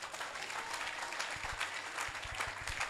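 A church congregation claps together in sustained, even applause during a French-language sermon on repentance, with a few louder claps standing out near the front.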